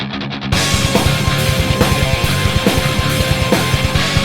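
Heavy, distorted guitar riffs chug over pounding drums in a fast, aggressive Doom-style metal groove after a brief muted intro.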